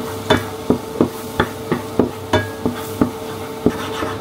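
A utensil taps and scrapes in a pan in a regular rhythm of about a dozen sharp knocks while cornstarch is mixed into a bechamel sauce, close and alone.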